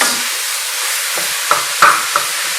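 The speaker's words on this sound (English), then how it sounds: "When you put the mince in, just make sure you mix it up really well." Mince and vegetables stirred in a hot frying pan for ragu: a continuous close sizzle with a few sharp scrapes and clacks of the utensil against the pan.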